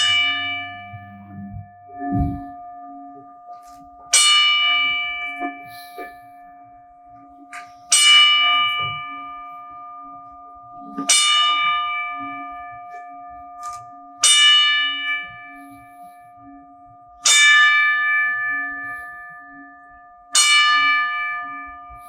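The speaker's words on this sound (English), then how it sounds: "please join me in an honorary 10 bell count for Aiden and Mia" A single ceremonial bell is struck ten times at a gala's honorary ten-bell count, slowly and evenly, roughly every three seconds, each deep ring fading out before the next.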